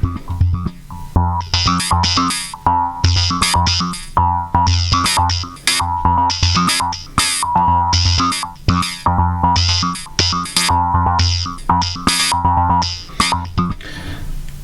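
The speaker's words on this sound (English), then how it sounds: "And then with modulation applied." A distorted Eurorack modular synthesizer plays rapid repeated notes with a swirling, chorus-like modulation, loud and rhythmic, pulsing steadily for the whole stretch.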